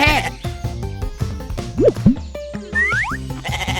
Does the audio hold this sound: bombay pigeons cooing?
no